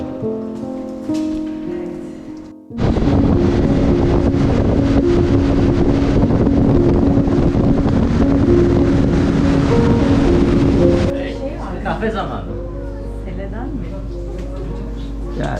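Wind roars steadily across the microphone during a family's motorboat ride, the loud blustery rush cutting in abruptly and running for several seconds before dropping back to quieter engine hum with voices talking.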